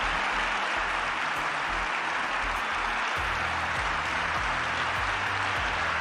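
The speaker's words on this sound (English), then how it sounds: "Look at Donald Trump giving himself a round of applause." Donald Trump claps for himself among a crowd, steady applause throughout at moderate volume with no talking.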